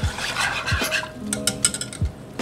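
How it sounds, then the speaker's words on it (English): A whisk scraping and clinking steadily around a pot of roux sauce for mac and cheese, a close rhythmic metallic stirring with a few sharper knocks against the pot's side. "Stir it, make sure you whisk it, so all the lumps of the roux is out."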